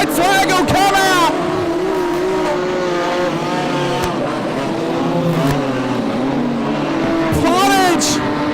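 Modified production race cars tearing around Lismore Speedway at night, engines droning steadily with rising and falling pitch as cars pass close by, several sharp revving sweeps at the start and end, under an excited commentator's voice.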